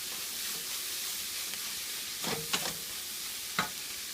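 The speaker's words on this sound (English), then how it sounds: "and mix everything together." Pita sprouts and eggs being stirred together in a sizzling pan, a steady frying hiss with a few brief scraping strokes of the utensil near the end, close and without talk.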